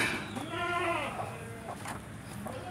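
Goats bleat at close range on a small farm, a long wavering cry followed by a couple of shorter calls, with some background noise between them.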